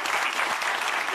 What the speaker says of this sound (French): applaudissements encore pour Jean-Charles